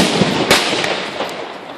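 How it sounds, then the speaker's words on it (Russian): German grenades burst at a reenactment of a 1917 Russian offensive, giving a loud, dense crackling blast with sharp pops layered through a noisy wash, close and intense. "Хорошо, хорошо разрываются немецкие гранаты."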